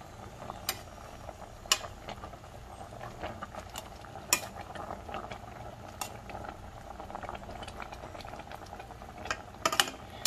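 Vegetable soup with malunggay and alugbati bubbles in a pot with soft continuous boiling and occasional brighter pops and clinks, close and fairly quiet.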